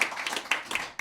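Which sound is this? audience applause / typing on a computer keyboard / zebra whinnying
audience applause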